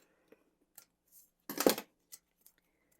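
Scissors make one quick trimming snip through paper for a pocket page scrapbook layout, with a few faint ticks and taps around it in an otherwise quiet room.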